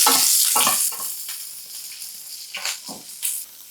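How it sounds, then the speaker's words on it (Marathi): Hot oil sizzles and crackles steadily as cumin, asafoetida and green chillies fry, with a few louder spitting bursts and stirring scrapes, close by. "छान तडतडली की जिरं, हिंग, हिरवी मिरची आहे ना अशी तळून घ्यायची जरा फोडणीमध्ये"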